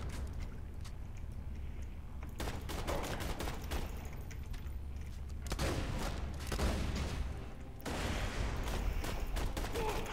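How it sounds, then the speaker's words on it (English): Exploding shotgun fire in Borderlands 2, loud crackling blasts and rapid bursts that come in clustered volleys across the battle, with sharp booms layered over a constant background rumble and no voices. "I have the shotgun he has. It explodes."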